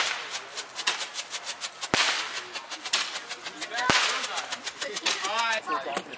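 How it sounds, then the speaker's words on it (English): Fourth of July fireworks pop outdoors at night, with a dense run of rapid crackling and a few louder sharp bangs standing out over the steady crackle. "we pop in fireworks"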